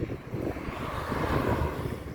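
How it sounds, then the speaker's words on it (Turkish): Wind buffets the microphone in a low, rumbling roar that keeps going through the short moment. "Havada çok rüzgar var."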